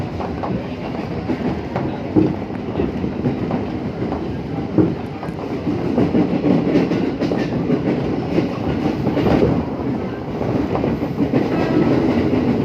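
A Japanese JR 203 series commuter train rumbles along the rails with a steady, rolling clatter of wheels, loud and continuous, with no voices.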